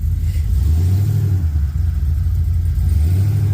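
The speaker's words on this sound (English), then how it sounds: "Look at that one wheel peel" OBS pickup truck with an LS engine swap stuck in snow, engine revving hard and steady as one wheel spins, a loud continuous low roar close by.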